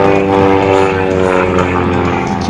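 A 1979 Bellanca Decathlon aerobatic airplane flies overhead at an air show, its propeller engine giving a loud, steady droning roar with a rich harmonic buzz that holds throughout.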